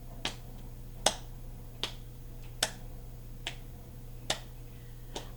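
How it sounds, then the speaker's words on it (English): Hands alternately clapping and patting a lap in a steady repeating pattern, producing sharp percussive hits about twice a second at close range in a quiet room. "clap, pat, clap, pat, clap, pat, clap, pat"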